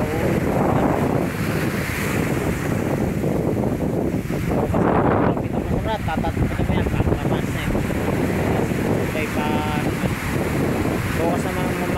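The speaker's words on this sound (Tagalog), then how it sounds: "Ayun, pa rin gaano kalakas ang amihan dito sa amin." Strong amihan monsoon wind blows by the sea where a boat is kept, a loud, continuous roar buffeting the microphone, with surf underneath and someone talking over it.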